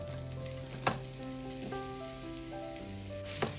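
Cut ripe nendran banana pieces sizzle and crackle steadily in hot ghee in a pan, a continuous close frying hiss with a few sharper pops and stirring scrapes, no voices.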